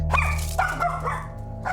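A dog barks several times in quick, sharp yips with a slightly whining edge, close and fairly loud over a steady low hum.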